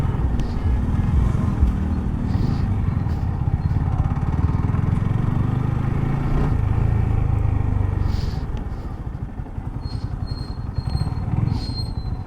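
A motorcycle engine runs with a continuous low rumble that stays loud and steady, then eases slightly toward the end, as if throttling down to park.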